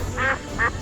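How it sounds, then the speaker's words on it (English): A duck gives two short, nasal quacks about half a second apart over a faint, steady background hum. "duck,"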